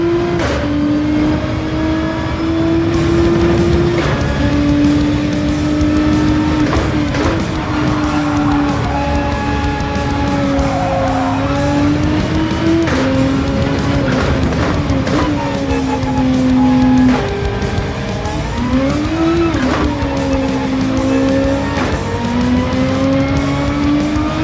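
A race car in Gran Turismo 7, driven in VR at Interlagos, holds a loud steady engine note through repeated braking and downshifts while tires squeal at the limit in long wavering streaks.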